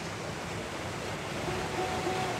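A jungle creek flows in a steady, full rushing wash of water, close and continuous with no break, with a faint whistle-like tone near the end.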